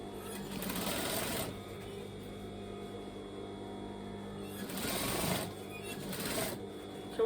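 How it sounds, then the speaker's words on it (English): An overlocker stitches a trouser seam with a steady, close mechanical whir and a low hum. The noise rises in two brief louder spells near the end, with no talking. "I'm just making sure that the overlocker that's underneath, I can see it"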